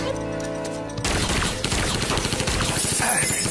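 Rapid gunfire from an action-film firefight bursts in after a second of sustained music-like tones, then continues as dense, loud, overlapping shots with a crashing, chaotic texture.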